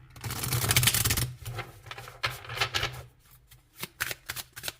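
Oracle cards shuffled by hand in a quiet room, a dense riffling burst for about a second followed by several shorter bursts of flicking and rustling with brief pauses between them.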